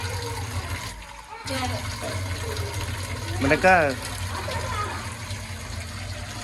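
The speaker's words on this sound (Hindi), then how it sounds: "पानी बंद कर दो, भर लो एक गिलास फिर बंद कर दो" Water runs steadily from a household tap, a continuous splashing hiss under a voice speaking indoors.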